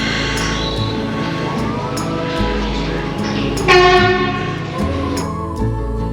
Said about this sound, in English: This looks like our train has pulled in now into Grosmont